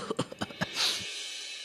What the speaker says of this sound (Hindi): हो गई ना खांसी?